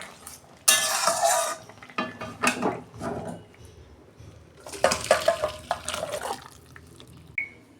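Thin boiled catfish curry is poured out of a pot in uneven bursts of splashing liquid and clattering metal, loud and close, with a quiet pause in the middle and no talking.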